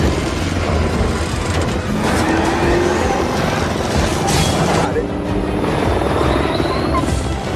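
Loud, dense roar of helicopter rotors mixed with racing car engines and skidding tyres in a Fast and Furious film chase, a constant wall of action-scene noise.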